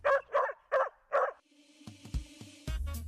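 A dog barks four times in quick succession, loud and close, followed by clattering knocks and a rising noisy rush.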